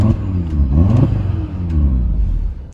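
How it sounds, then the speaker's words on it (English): A 2021 Audi TT RS engine revs loudly and close by, its deep tone climbing and falling in a couple of quick blips over a steady idle rumble. "Should give it a bit of a rev."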